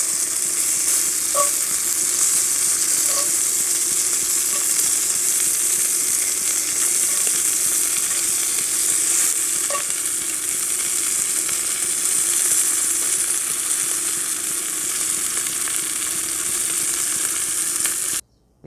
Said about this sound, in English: you just want to cook the abalone until it's just golden